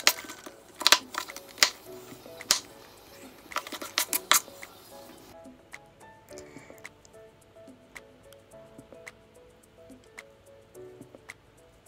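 A knife dices peeled carrots into small cubes on a cutting board, giving quiet, sharp, rapid taps that grow fainter and sparser in the second half.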